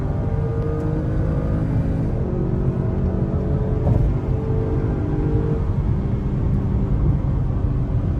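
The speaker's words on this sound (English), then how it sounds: "You put your foot down, the transmission wakes up pretty damn fast, and it gets you to where you need to be." A 2024 Acura RDX Elite accelerates under a hard throttle, with a steady, dense engine and road drone that holds loud and even throughout, with no voices.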